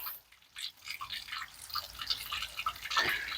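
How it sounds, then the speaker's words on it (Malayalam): Water rushing from an opened valve on a water filter during backwash, a steady hissing, splashing flow close by with brief gurgles and spurts, heard alone without talk. "അപ്പോൾ നമുക്ക് വെള്ളം കുറച്ച് കച്ചറൊക്കെ പോവും അതിന് ശേഷം നല്ല തെളിഞ്ഞ വെള്ളം ഇങ്ങനെ വന്നുകൊണ്ടിരിക്കും"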